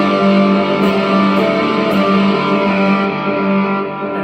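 An electric guitar played loud through an overdrive pedal, thick sustained distorted tones ringing with harmonics, a few faint clicks on top, fading slightly at the end.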